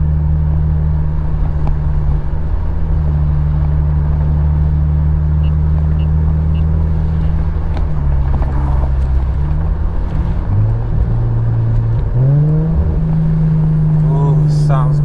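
Infiniti G37 sedan with a SOHO 3-inch single exit exhaust, heard from inside while cruising: a loud, steady low engine drone whose pitch dips and then climbs again as the car downshifts near the end.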